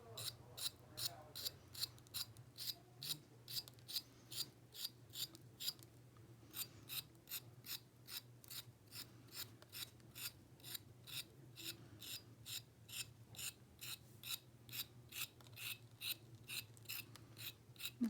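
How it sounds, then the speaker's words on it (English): Short, rhythmic brushing strokes scratch quill texture into a small clay pinch-pot hedgehog, a steady run of crisp rasping bursts repeating roughly every half second, close and fairly quiet over a low hum. "I am just brushing my little hedgehog's quills."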